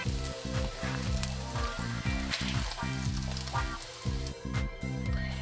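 Slices of Spam fry in a pan on a home kitchen stove, giving a steady, fairly loud sizzle and crackle that runs throughout, with music playing underneath.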